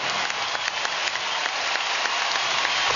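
A basketball crowd in Dallas giving a standing ovation, dense sustained clapping and cheering from a large arena audience, loud and continuous for the whole stretch.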